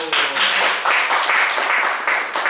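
Clapping from a crowd at a mission forum talk fills the whole stretch, steady and fairly loud, with a brief dip partway through before it picks up again.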